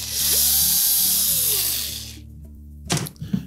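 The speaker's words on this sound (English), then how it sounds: "locate the two Phillips screws in behind it. We'll remove those two screws." A small electric screwdriver whirs as it backs Phillips screws out of a GE electric range control panel, a steady high whine for about two seconds followed by a few short clicks and rattles.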